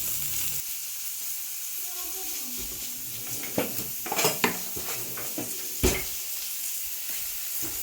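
Fish fries in a pan with only a little coconut oil, a quiet sizzle broken by several clinks and scrapes of a utensil against the pan. The sizzle runs throughout, and there is no speech.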